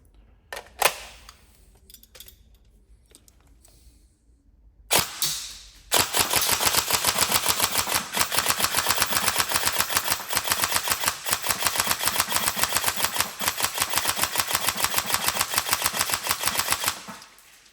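A TM 416 airsoft rifle with 20:1 gears and a brushless Warhead motor fires, first in a few short bursts and then in one long rapid full-auto string of sharp, close clicks over a motor whine.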